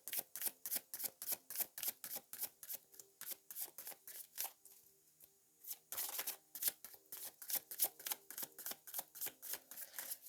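Tarot cards are riffled and flicked in a fast steady rhythm of crisp snaps, close and fairly quiet, with a brief pause in the middle before the run of snaps resumes, without speech.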